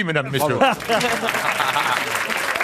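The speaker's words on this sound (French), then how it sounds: "Ça s'applaudit" Studio audience applause breaks out on a French radio comedy panel show, a dense steady wash of clapping that follows and continues under lively talk and laughter from the panel.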